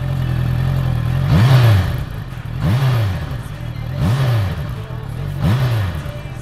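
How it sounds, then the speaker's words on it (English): A Honda CBR 650F with a 650cc inline-four engine revs hard four times in a regular rhythm, each rising rise-and-fall sweep loud and close, with a steady idle between the revs and no talk. "This engine is pure symphony to my ears and pulls through the red line without any fuss."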